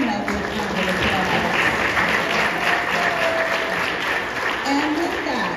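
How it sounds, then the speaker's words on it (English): A church audience applauds the cast of a children's musical, dense steady clapping sustained throughout with faint voices mixed in. "Let's give them a big round of applause"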